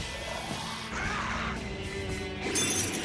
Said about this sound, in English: I love how Virtues sound like they're made of glass. So, like, when they die, it sounds like they're shattering.